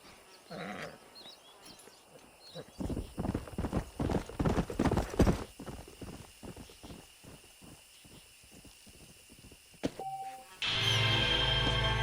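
A stallion's hooves clip-clop in a steady trotting rhythm in Red Dead Redemption, with a short whinny early on, the hoofbeats swelling louder and then fading, before a burst of loud game music at the end.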